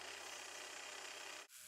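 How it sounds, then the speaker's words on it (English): Sandpaper rubs by hand across a wooden paper towel holder in a continuous, even rasping stroke that cuts off abruptly near the end with a brief pause before the scraping resumes. "Continue sanding with 180 grit paper"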